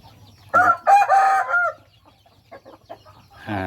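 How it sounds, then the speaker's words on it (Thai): A five-month-old native rooster crows loudly nearby in one long, drawn-out call, followed by a few softer clucks and quiet rustling. "เป็นไก่ห้าเดือนนะครับ"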